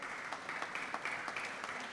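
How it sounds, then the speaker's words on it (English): Round of applause for Professor Raghunathan from an audience at a business talk, steady and fairly faint, heard from a distance without any speech. "A big round of applause to Raghunathan, sir."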